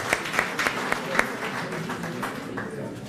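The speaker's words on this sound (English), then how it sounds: "Let's give them a round of applause and Juju as well a round of applause for that." A graduation ceremony audience applauds in a hall, moderate scattered clapping with a few sharper claps standing out, fairly distant and steady.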